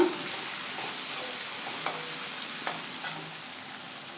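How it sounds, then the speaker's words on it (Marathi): Ginger garlic paste sautéing with fried onion in a pan for pav bhaji, a dense continuous sizzle close up with occasional faint scrapes of stirring. "आलं लसणाचा कच्चा वास जाईपर्यंतच परता"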